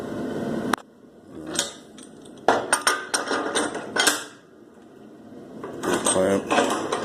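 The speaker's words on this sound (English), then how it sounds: "Show the clamp here. It's a modified F clamp." A modified F clamp is handled on a steel welding table, giving several sharp metallic clanks and knocks in short clusters, close by, with quieter gaps between.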